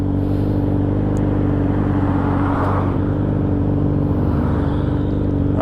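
Steady, loud drone of a motorcycle cruising along a road, its engine note holding even with a continuous low rumble and wind-like hiss throughout, no voices heard.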